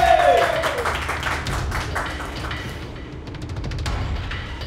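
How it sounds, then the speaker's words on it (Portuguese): An audience applauds at a live stream, a burst of clapping under a brief voice that thins, then swells again toward the end. "Aplausos!"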